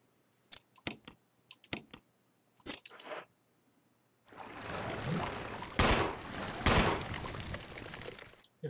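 Gunfire in a Resident Evil game: a few sharp isolated clicks and shots at first, then a sustained loud burst of shooting with heavy booming impacts.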